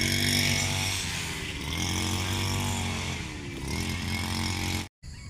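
A small two-stroke brush cutter engine drones steadily and loudly, its pitch wavering slightly, then cuts out abruptly near the end as it breaks down.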